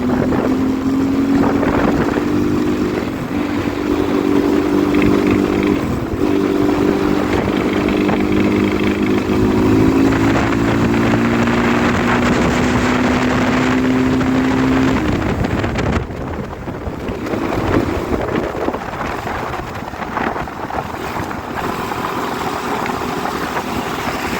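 A motorcycle engine runs steadily while riding on a road near the Nepal border. It gives a loud, continuous droning hum whose pitch rises and shifts, and wind buffets the microphone throughout.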